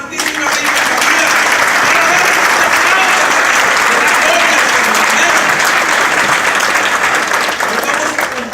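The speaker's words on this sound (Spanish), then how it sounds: "Otro aplauso a la Santísima Virgen María." A Catholic charismatic congregation claps loudly for the Virgin Mary during a prayer gathering, a thick, close wash of applause lasting several seconds with voices rising through it before it tapers at the end.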